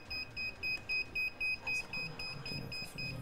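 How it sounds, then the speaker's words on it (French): A quiz-show buzzer beeps in a rapid steady series of short tones during a high-school quiz competition, moderately loud over room noise. "Lâchez le buzzer, s'il vous plaît."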